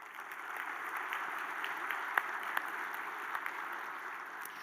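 Audience applause fills a chamber of commerce annual meeting hall, a steady dense wash of clapping with a few sharper individual claps standing out, sustained at even volume throughout.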